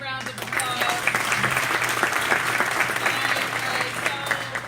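Crowd applause for the university president at a campus gym grand opening, steady clapping across a large room with a constant low hum beneath and scattered voices mixed in.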